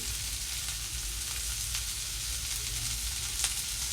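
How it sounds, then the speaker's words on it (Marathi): Chopped onion sautés in a pan for black horse gram usal, a steady close sizzle with occasional stirring scrapes and no talking. "असं सतत परतत राहायचं आहे."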